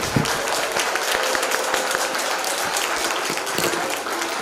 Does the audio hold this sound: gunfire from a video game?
no